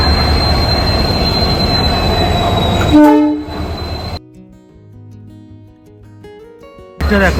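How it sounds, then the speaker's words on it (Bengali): A train rolls in loudly with screeching, squealing wheels and rumbling carriages, then the noise drops to a low hum before rising again at the end. "ওই যে আমাদের ট্রেন ঢুকছে"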